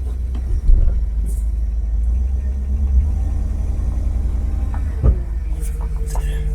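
An old car engine runs steadily with a low, loud rumbling drone, with a couple of brief knocks or bumps close by and no clear talk over it.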